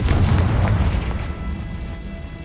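A Confringo fire spell detonates in Hogwarts Legacy with a loud, deep boom up front, its rumbling blast tail fading out over the next couple of seconds.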